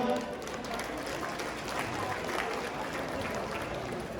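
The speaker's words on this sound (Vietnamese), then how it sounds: "Xin một tràng pháo tay để chào đón Hội đồng cố vấn." Audience applause welcoming an advisory council at a Vietnamese-American community ceremony, a sustained, fairly even patter of clapping from a seated crowd, moderately distant and without a break.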